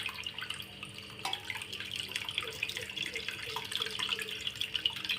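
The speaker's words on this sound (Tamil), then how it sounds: "புளி தண்ணியை நல்லா ஊற்றிடணும்" Tamarind water for a fish curry is strained and poured, a steady splashing, trickling stream of liquid close by that lasts throughout with faint dripping.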